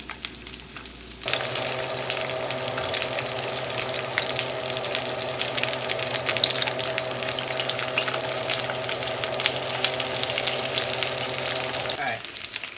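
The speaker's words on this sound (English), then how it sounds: "We're gonna fry both sides." Chicken wing gyoza sizzle in a hot pan, a bright, dense crackle that starts abruptly after a quiet moment and holds evenly at close range before fading at the end.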